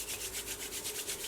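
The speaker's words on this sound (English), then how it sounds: "rub the hands together" Palms rubbing briskly back and forth to warm them before pressing in lipstick, a rhythmic papery swishing of about ten strokes, close and steady with nobody talking.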